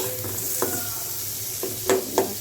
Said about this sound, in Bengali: এখন আমি একটু চিংড়ি মাছ ভুনা করতেছি।